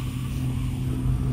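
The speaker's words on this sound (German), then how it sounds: "Manual activation of the ventilation circuit. Turned on." Ventilation circuit switching on in the video game Dead Effect: a steady, loud low mechanical hum with a constant drone, heard alone without talk.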